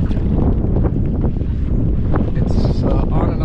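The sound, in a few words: wind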